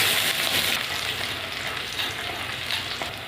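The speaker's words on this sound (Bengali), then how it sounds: "পেঁয়াজটা একটু ভেজে নিয়েছি" Onion fries in hot oil for a tilapia curry, giving a loud, steady sizzle with stirring, close and alone with no voices.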